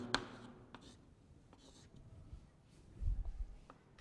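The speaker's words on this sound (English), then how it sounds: "let me write it here" Pen or marker writing out a chemistry explanation, with faint scratchy strokes and short taps at a quiet, close level, no talk.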